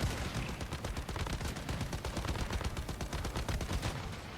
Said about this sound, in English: Right now I'm using a pistol. It's like the Shark pistol, legendary.